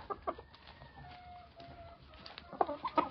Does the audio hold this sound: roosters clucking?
yes